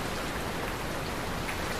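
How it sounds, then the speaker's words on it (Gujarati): Heavy monsoon rain pours down in a steady, dense hiss that fills the whole moment, loud and unbroken, with no voices. "ભારે ઉકળાટ અને બફારા બાદ સમગ્ર રાજ્યમાં મેઘ મહેર વરસી છે."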